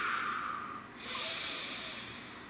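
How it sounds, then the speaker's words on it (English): A single slow, deep breath taken close up, a broad airy hiss that swells, dips briefly, then draws in again steadily over a couple of seconds, quiet and alone with no talking. "Nice deep breath."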